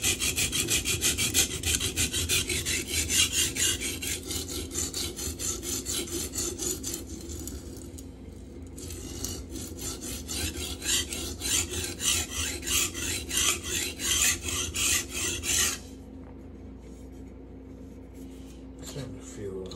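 Steady rhythmic rasping of S35VN steel knife edge stroked across an Atoma 140 diamond plate, close and continuous with a brief pause midway, then further strokes; a voice speaks briefly.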